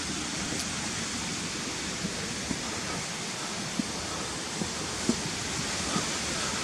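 Waterfall at Harmby where a channelled stream drops down, heard as a steady broadband rush of falling water with faint scattered splashes, fairly distant and unbroken.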